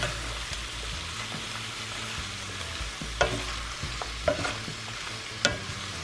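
Smoked herring, onions, tomato, vegetables and spices stirred in a sizzling pan, with continuous frying hiss and a few sharp scrapes of the spoon against the pan.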